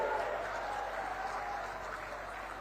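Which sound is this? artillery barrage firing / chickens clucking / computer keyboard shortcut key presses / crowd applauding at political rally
crowd applauding at political rally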